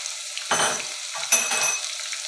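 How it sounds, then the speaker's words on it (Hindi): Two spoonfuls of crushed ginger and garlic fry in a pan for Lahori chikar cholay, a steady close sizzle swelling twice as it is stirred, with no voices. "अब जी मैं इसमें अदरक और लहसुन जो कुटा हुआ 2 भर के चम्मच वो मैंने शामिल कर दिया है। थोड़ा सा मैं इसको भूनूँगी।"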